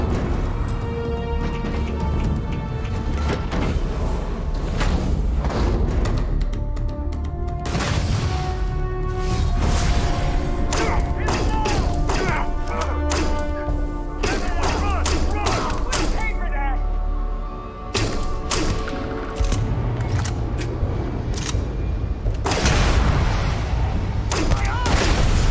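Pistol gunfire in the video game Starfield, a dense, continuous stream of loud shots and booms over the whole stretch, mixed with impacts, game music and occasional talk.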